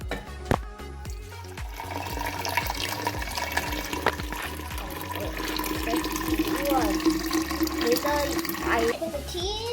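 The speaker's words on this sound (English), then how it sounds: "So now we can put the tea inside." Tea pours into a glass kombucha jar, a continuous splashing, filling flow that grows fuller over several seconds, with a few knocks and voices talking over it.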